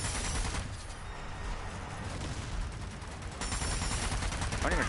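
Machine gun fire in the Zombie Army 4 video game: continuous dense bursts of rapid automatic gunfire with heavy rumbling impacts, loud and sustained across the whole stretch.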